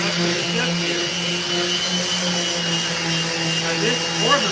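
An orbital sander hooked to a vacuum runs in a skateboard-making workshop, giving a steady, loud whirring roar with a low hum that continues without a break.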